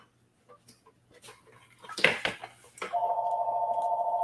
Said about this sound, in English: Let me turn off this phone.